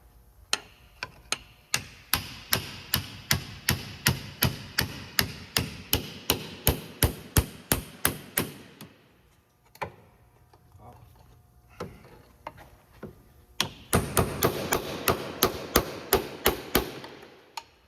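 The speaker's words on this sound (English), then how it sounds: "we just basically get a hammer and a pry bar in there and just knock it off of the shaft" A hammer strikes metal repeatedly, knocking the intermediate steering shaft loose on a 2006 Lincoln Mark LT, in a steady rhythm of sharp, ringing knocks, pausing briefly before another fast burst of blows.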